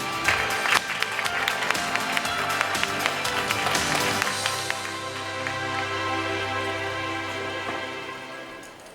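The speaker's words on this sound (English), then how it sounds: "Let us give applause to Dr. Rabinzohn" Conference audience applauding a speaker introduced as a materials science PhD, crowd clapping dense at first with sharp individual claps, then thinning into a softer murmur with a low steady hum beneath.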